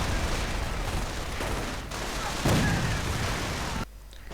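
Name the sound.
sticky bomb explosions and mortar fire in a video game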